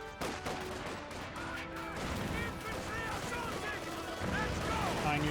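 Gunfire in the Company of Heroes 2 strategy game, with rapid small-arms volleys and explosive cracks in a dense battle mix, heard under ongoing commentary from a man.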